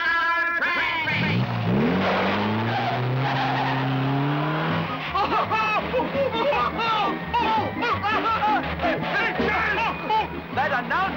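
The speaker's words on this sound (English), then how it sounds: "the most fine-tingling stunt of all, featuring Crash Boom Bam in a 100-mile-an-hour drag race" Cartoon race cars in a 100-mile-an-hour drag race give off loud engine revving that rises in pitch, then squealing tires and chaotic skidding noises, close and busy, with lively voices over the top.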